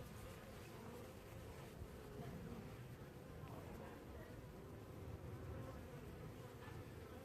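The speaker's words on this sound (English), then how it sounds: "Oh no, a wasp has gone in." Bees and wasps buzz steadily around a beehive box, a dense, continuous insect hum close to the microphone with no pauses.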